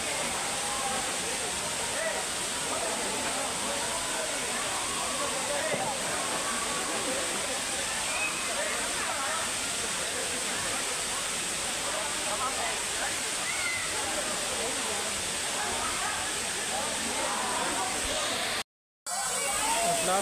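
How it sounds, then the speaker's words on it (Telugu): Talakona waterfall pours in a steady, loud, broadband roar of falling water that continues without break, cut by a brief dropout near the end. "8th March 2025 Talakona water falls."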